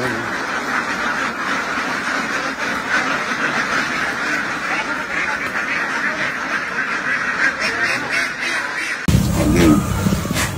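A group of newly arrived ducks quack steadily in a dense chorus, close and continuous, with a louder jostling burst near the end.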